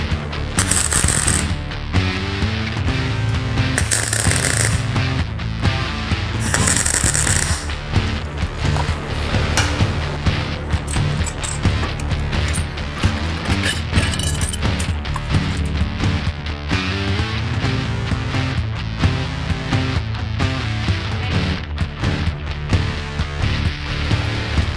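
Tack welding a piece of angle bar onto the parallel four-link suspension of a 1939 Hudson rat rod: three short, sharp, crackling welding bursts over a steady, noisy mechanical background.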